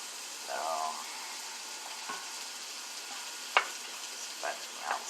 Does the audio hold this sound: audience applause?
no